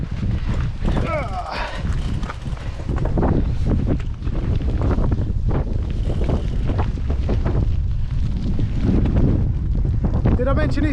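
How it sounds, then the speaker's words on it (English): Strong wind buffeting an outdoor microphone, a continuous loud roaring rumble with gusty surges throughout, and a voice talking faintly underneath. "Did I mention it's windy today?"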